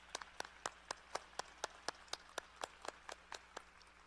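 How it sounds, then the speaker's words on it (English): A small audience at a service recognition ceremony claps for honorees, sparse and fairly slow, with distinct individual claps in an uneven rhythm heard at a moderate distance in a quiet room. "Let's give a round of applause to the honorees from the College of Fine Arts."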